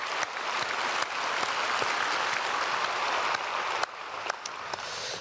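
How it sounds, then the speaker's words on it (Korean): A large church congregation at a Sunday worship service claps loudly and steadily to welcome about 25 newcomers. The dense, even applause fills the room without a break, with a brief swell near the end. "우리 크게 박수로 축복하겠습니다"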